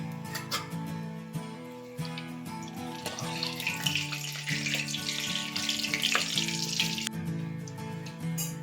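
Bay leaves dropped into hot oil for a pork curry, a steady watery sizzle that rises and crackles in the middle, with a low hum running underneath.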